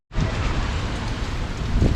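Hurricane Ian wind and rain lashing an outdoor spot at Walt Disney World, a loud, steady roar of gusting wind and driving rain battering the mic, swelling slightly toward the end with no voices.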